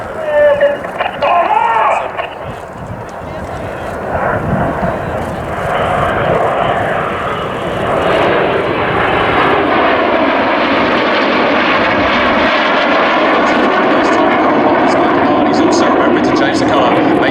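Red Arrows jets in a flying display, one flown close to its aerodynamic limits, roar overhead in a sustained, swelling engine rush that builds and holds loud, with a commentator's voice running underneath.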